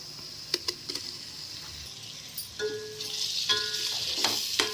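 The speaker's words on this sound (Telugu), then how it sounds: "ఈ మసాలాల ముక్కలు కొంచెం లైట్గా ఫ్రై చేసుకోవాలండి" Chicken pieces fry lightly in a cumin and garam masala mix, a soft sizzle with scattered stirring clinks and scrapes against the pan, rising gradually toward the end.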